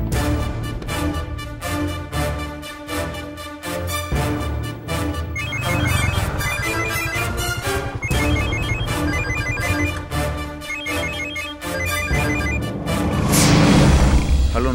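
A telephone rings in repeated short bursts over loud, continuous dramatic background music, from a Tamil television serial.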